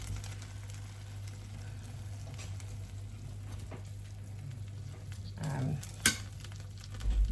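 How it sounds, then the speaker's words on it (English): Partially cooked sausages shifted around a pan of hot oil give a soft, steady sizzle with faint scrapes, close but quiet, and one sharp clink near the end. "these are my sausages partially cooked and sitting in hot oil"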